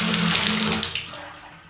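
Hot and cold water runs from a bathtub faucet, a bright hissing gush that starts strong and tapers away over under two seconds.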